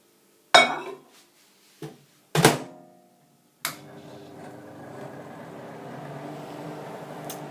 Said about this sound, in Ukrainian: І зараз поставимо мікрохвильовку.